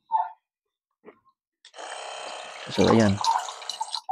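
An electric water pump dispenser draws water, a steady whirring pump hum with a gurgling, bubbly splash of flowing water rising midway, heard close and moderately loud after brief speech.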